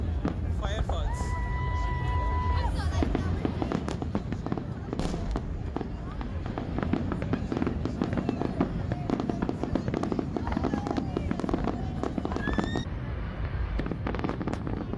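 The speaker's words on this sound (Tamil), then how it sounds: "என்னங்க இந்த கலர்ஃபுல்லான ஃபயர் ஒர்க்ஸ் உங்களுக்கு பிடிச்சிருந்ததா?" An outdoor fireworks show in the USA brings a rapid, continuous barrage of crackling bursts and pops. Several whistling rockets rise through it, with a faint crowd murmur underneath.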